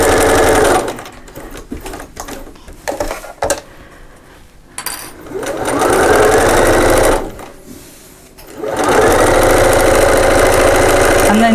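A sewing machine stitches an organiser bag's fabric in three steady running bursts, separated by brief pauses with rustling handling noise and a soft voice in the quieter gaps.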